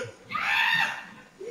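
A man screaming on a driveway as an animal chases him, caught by a Ring doorbell camera: a single shrill, strained yell about a second long, fairly loud and slightly distorted, briefly rising above low background noise.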